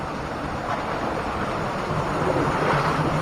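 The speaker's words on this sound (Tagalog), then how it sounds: "Lakas pala yung tubig pala naman dito." Strong flowing water of a stream at Busay Falls in Gasan, Marinduque rushes in a loud, dense, continuous roar close to the microphone, with no one speaking.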